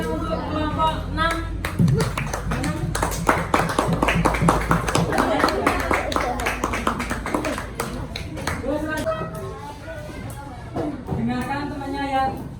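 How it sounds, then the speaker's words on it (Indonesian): A class of fifth-grade children claps for a group in a primary school classroom, a burst of applause under ongoing chatter and a teacher's voice, with talk continuing throughout. "Beri tepuk tangan untuk kelompok 6."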